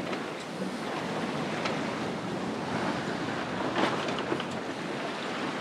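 Ocean waves wash and surge around a sailing boat running with a whisker pole and preventer rigged, a continuous broadband rush with wind noise buffeting the microphone and a few louder splashes.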